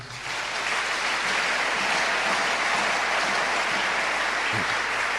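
A church congregation applauds loudly and continuously during a sermon, a dense, even wash of clapping that holds steady from start to finish.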